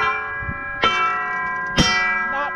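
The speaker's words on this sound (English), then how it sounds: "when I hit these pans with this hammer is really loud" A hammer strikes the steel disc pans of a John Deere 637 disc harrow, giving loud ringing bell-like clangs, two main strikes with long sustained metallic tones between them and a lighter tap at the start.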